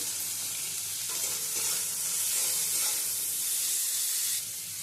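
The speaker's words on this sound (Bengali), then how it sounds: "প্রথমে উচ্ছেগুলো দিয়ে কিছুটা ভেজে নেব" Sliced bitter gourd fries in a hot oiled pan with a pinch of salt, giving a steady, dense sizzle and hiss that swells slightly midway and holds close and loud throughout, with no voices.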